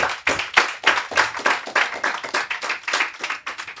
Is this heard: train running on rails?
no